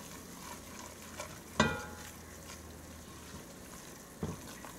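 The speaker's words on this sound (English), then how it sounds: "Get all the lumps out as you're stirring it up." A roux for gumbo is stirred in a pot, giving a faint, soft scraping hiss broken by a couple of distinct spoon knocks against the pot, with no speech.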